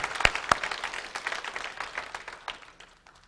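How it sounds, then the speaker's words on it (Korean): A church congregation applauds together during a Sunday worship service, a burst of claps that thins out and fades over a few seconds, fairly close and loud with no one speaking over it. "우리 한번 하나님께 영광의 박수 올려드리겠습니다"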